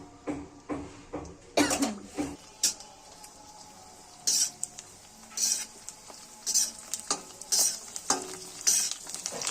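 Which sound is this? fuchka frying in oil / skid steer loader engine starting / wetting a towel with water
fuchka frying in oil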